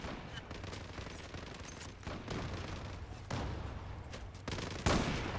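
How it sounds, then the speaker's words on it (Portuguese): Rapid bursts of gunfire in the online shooter game Zula crackle almost without pause, several heavier volleys standing out, loud and close, with no talking. "Nossa, tomando tiro."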